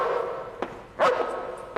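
A single short dog bark, near and moderately loud, framed by faint thumps and a quiet room background.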